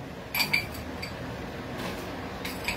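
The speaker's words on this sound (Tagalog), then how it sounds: "Dahil hawak ko na ho ang ating baso, lagyan ho natin ang yelo." Ice cubes dropped into a rock glass, also called an old fashioned glass, at a bar counter, giving a few light clinks and taps with soft background hiss.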